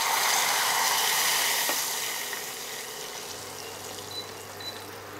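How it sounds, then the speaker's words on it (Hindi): Water is poured into a pan holding sugar for dhokla, a brief hissing pour at the start that fades into a quieter simmering hiss. "1/3 कप इसमें पानी डाल देते हैं।"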